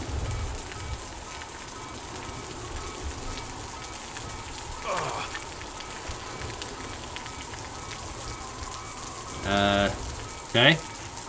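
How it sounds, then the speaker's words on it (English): Steady rain hisses across a planetary surface in the game Osiris New Dawn, an even wash of noise throughout with a couple of brief mechanical blips near the end. "It's raining outside."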